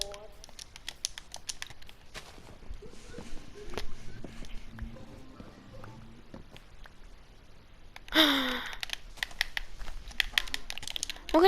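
Fast clattering keystrokes on a computer keyboard during Minecraft play, scattered clicks that thin out midway and then return in a louder, denser burst, with a voice talking over them.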